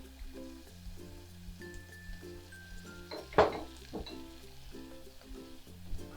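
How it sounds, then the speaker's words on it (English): A spoon stirs a sauce with Worcestershire in a pan over very low heat, a soft scrape and one clinking knock of utensil on the pan over a steady faint sizzle and background hum. "I'm just going to give it a stir"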